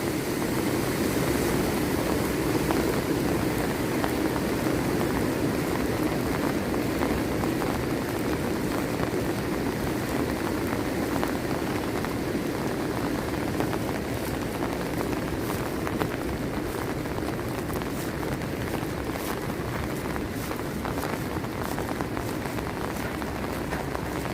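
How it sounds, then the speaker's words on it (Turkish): A swollen stream rushes after heavy rain in a Giresun village in the Black Sea region, a steady loud roar of floodwater that runs unbroken throughout with no voices. "Suyun sesi, azameti, suyun gücü."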